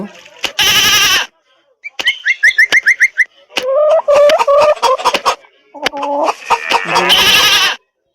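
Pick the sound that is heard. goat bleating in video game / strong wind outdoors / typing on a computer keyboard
goat bleating in video game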